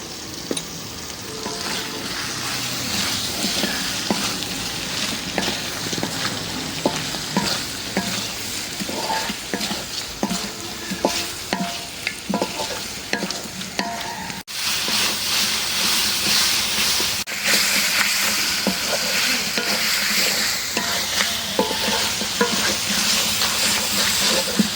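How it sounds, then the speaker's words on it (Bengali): Potato, onion and chicken pieces fry with spices in a pan, a continuous loud sizzle and hiss broken by scraping stirs throughout. "এই আলু পেঁয়াজ মাংসর সাথে মশলা একবারে ভাজা ভাজা হয়ে গেছে"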